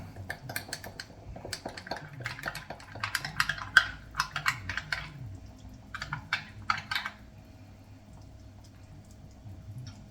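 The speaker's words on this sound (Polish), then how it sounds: "I musimy dobrze wymieszać tą mąkę z wodą." A spoon clinks rapidly against a glass while flour is stirred into half a glass of water, with quick rattling taps that stop after several seconds, leaving a quiet room.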